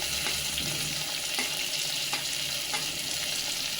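Eggplant and potato pieces fry in hot oil for vegetable pulao, a steady close sizzle with occasional scraping stirs and light clinks of a utensil against the pan.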